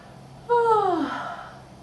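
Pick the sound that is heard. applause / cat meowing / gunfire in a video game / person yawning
person yawning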